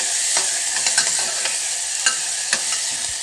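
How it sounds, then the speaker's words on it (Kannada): Onions frying in hot oil give a steady, bright sizzle throughout, with a few soft stirring scrapes and small pops on top. Nobody speaks. "ಎಣ್ಣೆಲಿ ಈರುಳ್ಳಿದು ಹಸಿ ವಾಸನೆ ಹೋಗೋವರೆಗೂ ಒಂದು ಸ್ವಲ್ಪ ಫ್ರೈ ಮಾಡ್ಕೊಳ್ತೀನಿ"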